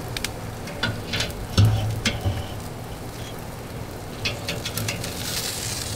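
Prime ribeye steaks sizzling on an O.J. Bronco grill, heard as a steady, soft crackling hiss with a few brief clatters and scrapes over it.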